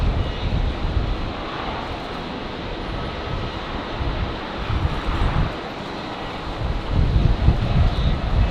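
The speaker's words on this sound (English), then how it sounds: "So Qantas 611 here departing to Melbourne on 19 left." A Qantas airliner departing Brisbane Airport from runway 19 left on a windy day gives a broad, steady jet roar that swells slightly toward the end, heard from a distance through gusty wind noise on the microphone.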